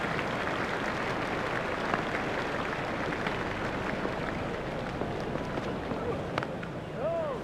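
A stadium crowd in a cricket video game cheers and applauds in a dense, continuous roar, with a commentator's voice heard over it.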